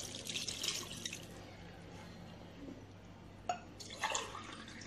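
Water poured into a cooking pot while preparing a Moroccan-style tagine dish, a soft trickling and splashing with a few brighter bursts, fairly close and without talk.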